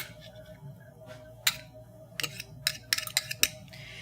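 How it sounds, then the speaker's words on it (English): Diced carrots, parsley and cucumber being tossed into a grain salad, heard as scattered light clicks and scrapes of utensils against a bowl, growing busier toward the end, close and fairly quiet with no talking. "we're just going to mix all that up together"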